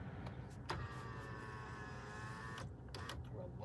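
A car power window winds up with a steady motor whine lasting a couple of seconds inside a quiet, idling car, closed off by soft clicks.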